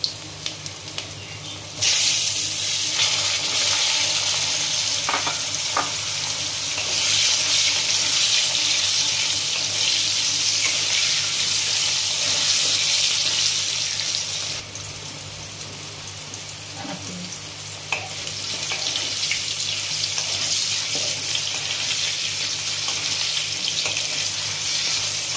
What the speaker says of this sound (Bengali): হলুদ দিয়ে আমি এই তেলে আলুগুলোকে একটু ভেজে নেব।